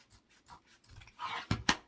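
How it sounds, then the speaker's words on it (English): Felt cut into a two-inch strip with scissors, heard as a few soft close snips building to two sharper crisp cuts at the end, quiet and alone. "Just cut this strip off at a 2 inch."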